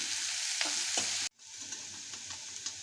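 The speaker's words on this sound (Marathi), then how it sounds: "त्यात कढीपत्ता टाकून द्यायचा आहे. थोडं लाल होऊन द्यायचं आहे." Onion and curry leaves fry and crackle in a pan for spicy tomato chutney, a steady close sizzle broken by stirring scrapes and a brief cut near the middle, with no voices.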